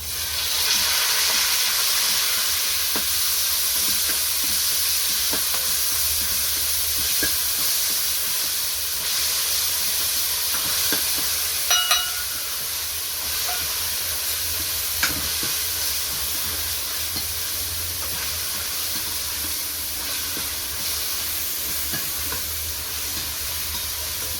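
Garlic frying in a pan for a bottle gourd sabzi, giving a constant close bright sizzle and hiss with faint stirring scrapes and a couple of small clinks, no voices.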